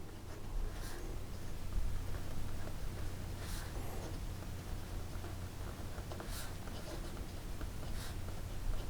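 A smooth, quiet nib on an inexpensive $10 Amazon fountain pen writes on paper, producing faint, soft scratchy strokes at spaced intervals over a low, steady background hum.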